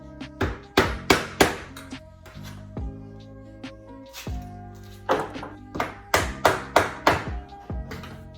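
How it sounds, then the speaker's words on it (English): Hammer and screwdriver tapping the hinge pins out of a door, heard as two clusters of sharp metallic taps, several strikes in quick succession each time, close and fairly loud with quieter gaps between. "So you wanna get a screwdriver and a hammer and just tap the pins out."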